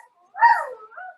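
A person imitates a dog with a single short, close bark-like yip that trails off into a softer whimpering tail, alone in an otherwise quiet space.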